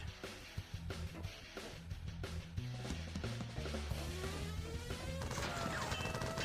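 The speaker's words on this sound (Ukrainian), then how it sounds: "десь там стріляють, там там стріляють" Rapid bursts of gunfire in the old video game Exodus from the Earth crackle through a busy, cluttered mix of music and effects, with sharp cracks scattered across the whole stretch.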